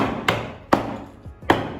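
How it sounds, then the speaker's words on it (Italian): A small hammer taps staples holding canvas onto a wooden frame, three sharp separate knocks at an uneven pace, close and clear, with no voices. "eventualmente potreste andare con un martellino a battere"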